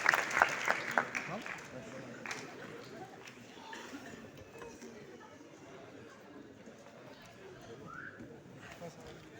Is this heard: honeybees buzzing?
no